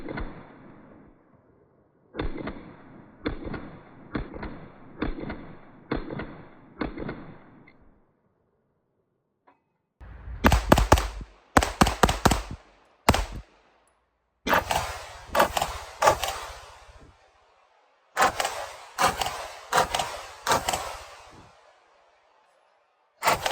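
Pistol shots from a handgun fitted with a Marconi Armory ported slide ring out in quick bursts, first a run of softer evenly spaced reports, then several loud, sharp volleys of close rapid fire separated by short pauses.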